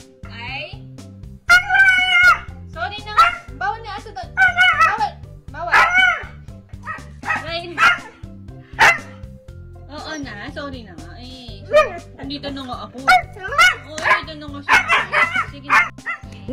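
A pet dog yips, whimpers and barks in a long, varied run of near, insistent vocal bursts, as if complaining at its owner, with a voice talking in between.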